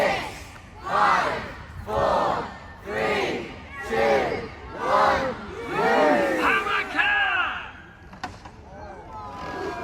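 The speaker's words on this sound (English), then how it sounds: "everyone shouts "loose." That's the command for this machine." At a castle trebuchet show, a large outdoor crowd shouts the firing command together in loud, repeated bursts, about seven rhythmic roars roughly a second apart, each swelling and fading, followed by a brief clatter.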